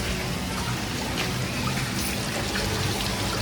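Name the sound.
small toy water fountain trickling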